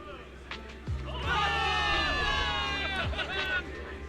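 A large video game crowd of soldiers roars and cheers loudly for several seconds, with layered voices and musical tones swelling over heavy low rumbling.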